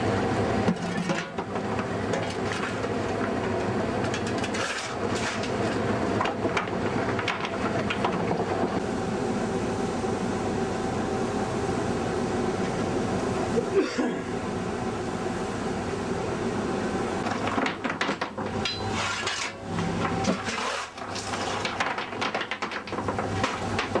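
Steam locomotives W945 and W903 double-head a six-carriage train on the Hotham Valley Railway, giving a continuous loud rumble of working engines and rolling carriages throughout, with rail clatter and a few shifts in intensity.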